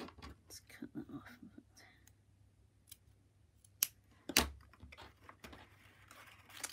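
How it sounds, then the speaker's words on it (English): Snips cut through a cord tied in a double knot on a paper Christmas cracker, giving a couple of crisp, sharp clicks amid soft rustling of paper and a faint whispered voice. "Let's cut that off."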